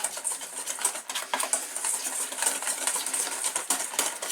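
Baking soda is stirred into a thick beer batter, giving a continuous wet, clicking scrape of a utensil against a bowl with a steady, busy rhythm.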